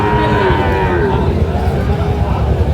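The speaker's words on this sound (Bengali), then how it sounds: "শাহিওয়ালের ষাঁড় বাচ্চা আমরা দেখছিলাম" A six-month-old Sahiwal bull calf gives a loud, drawn-out moo close by at a cattle market in Dinajpur, with crowd murmur and a voice in the background.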